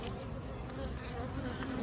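Honey bees buzzing around beehives during beekeeping work, a close, steady, dense hum that holds without a break.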